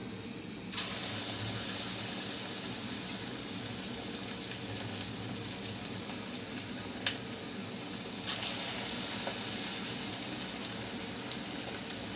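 Cabbage pakoras frying in hot oil, with a steady soft sizzle and crackle that brightens as fresh batter drops in around the start and again later, plus a single sharp clink midway and no talk.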